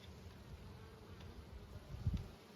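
Low, steady buzzing from many honeybees in an opened hive during a warm-day winter inspection, a continuous drone that swells slightly louder near the end.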